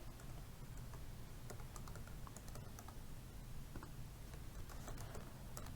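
Steady computer keyboard typing, continuous rapid key clicks entering values, close and fairly quiet over a constant low background hum, with no voices.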